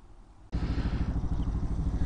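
A Honda Elite 150 scooter engine fitted with a Hellcat Raptor carburetor bursts into a loud, close, throbbing run with rapid rhythmic pulsing after a brief quiet start.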